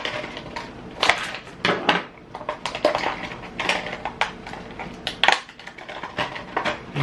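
A knife saws and pries at a stiff child-proof plastic package, giving repeated crinkling scrapes and sharp plastic clicks in irregular bursts, close and moderately loud, with no talking.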